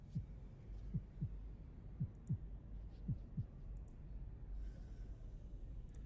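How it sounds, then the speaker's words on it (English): Heartbeat sound effect in a tabletop role-playing session, soft low thumps in paired beats repeating at a steady pace over a dull hum, faint and alone. "you can just kind of hear your heartbeat inside your head"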